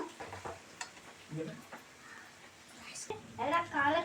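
Mushroom rice cooking in a pan: a soft sizzle with stirring and scraping, then brighter frying crackle as rice goes in near the end, close and moderately loud with a voice speaking.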